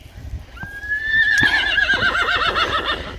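A horse in a snowy farm setting lets out a loud, close neigh, rising into a long quavering whinny that lasts several seconds, with no talking.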